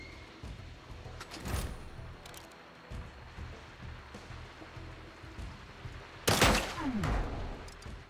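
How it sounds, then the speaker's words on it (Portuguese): A couple of sharp gunshot bursts in SteamWorld Heist II, one faint early and a louder powerful-shot blast later, with crackling debris over a low rumbling background. "Recarreguei, mas eu quero tiro poderoso."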